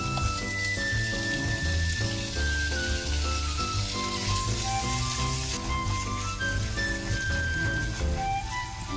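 Bacon fries and sizzles steadily in a pan for fried rice with Spanish leaves, a constant hissing crackle that stays even throughout, with faint kitchen noise mixed in.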